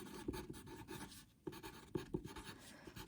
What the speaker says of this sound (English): on my examples, I'm going to write closed safety pin